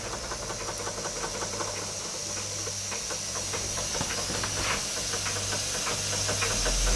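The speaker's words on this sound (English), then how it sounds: "any model steam engine that will run as slow as that" A vintage American Jensen Model 70 model steam engine chuffs slowly and steadily under a constant hiss of steam, with light mechanical ticking, close by.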